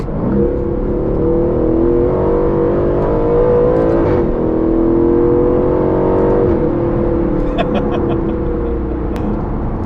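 An Aston Martin Vantage engine revs loudly and close, rising and falling through a couple of sustained climbs before settling to a steady drone, with no talk.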